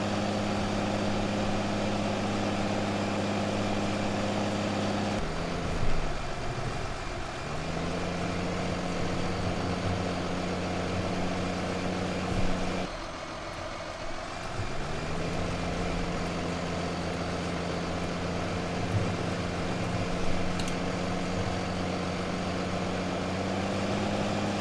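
A tractor engine drones steadily in Farming Simulator 2015, a continuous low, harmonic rumble with brief shifts in pitch where the engine revs and settles again, heard on its own without talk.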